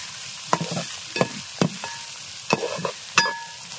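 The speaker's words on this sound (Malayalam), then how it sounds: "അപ്പൊ നമുക്ക് ഇനി ഇത് നന്നായിട്ട് ഫ്രൈ ചെയ്തെടുക്കണം" Ginger frying in a pan for puli inji, with a soft sizzle broken by sharp intermittent clinks and scrapes of a spoon stirring against the pan.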